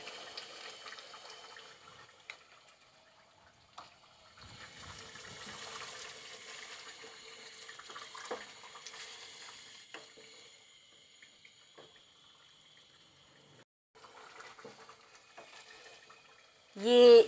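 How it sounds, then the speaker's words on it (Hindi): Yogurt goes into a pot of frying korma, giving a steady soft hiss of cooking with faint wet shifting sounds throughout, ending in a brief louder burst. "अब मुझे इसमें ये दही डालना है जो कि मैंने एक पाव लिया है"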